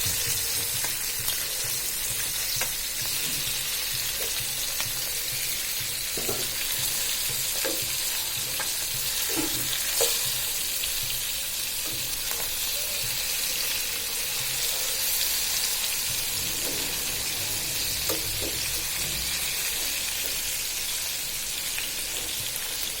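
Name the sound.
tilapia fish frying in a pan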